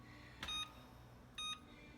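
An electric oven's control panel beeps while being set to preheat, giving two short, faint electronic beeps about a second apart over a low background hum.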